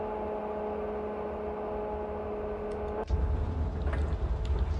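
A train engine in the Open Rails train simulator game gives off a steady, vacuum-cleaner-like droning hum, then swells abruptly into a louder, rougher whooshing roar partway through.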